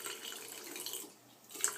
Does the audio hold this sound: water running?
yes